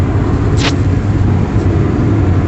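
Car cruising on the road at 110 km/h gives a steady low engine and tyre rumble, close and loud, with a brief whooshing swell partway through and no talk.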